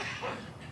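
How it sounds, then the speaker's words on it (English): A single short, fairly faint cough from a person, rough and breathy, lasting under a second with no talking. "that's a cough"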